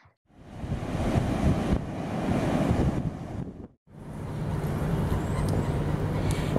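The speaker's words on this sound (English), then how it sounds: "with the sounds of the ocean waves" Ocean waves wash in a steady, loud broadband roar that breaks off briefly before resuming, with no voices over it.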